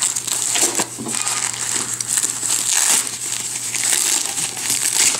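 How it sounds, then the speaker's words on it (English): Cutting through a package while unboxing, heard as close crinkling and crunching of packing material with scattered crackles and tearing, continuous and fairly quiet, with no talk. "I'm going to cut through this part first."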